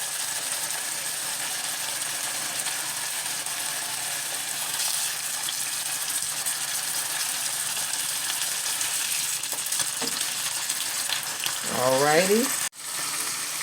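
Cube steaks browning in a hot pan give a continuous, even sizzle and crackle throughout, with a brief clatter near the end and a short spoken word.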